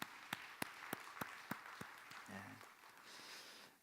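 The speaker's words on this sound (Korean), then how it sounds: "하나님께 감사의 박수 하겠습니다" Congregation clapping during a Sunday church service: a few sharp, rhythmic near claps at first, then a softer spread of applause with a brief tone underneath.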